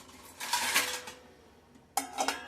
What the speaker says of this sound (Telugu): మూత పెట్టాలి.